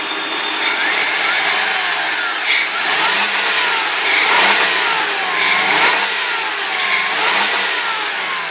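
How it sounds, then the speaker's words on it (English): A 2003 Ford Windstar SE van's engine revs up and eases back repeatedly from a steady idle, loud and close with a whining mechanical tone and no talking. "I'm going to rev it up for you."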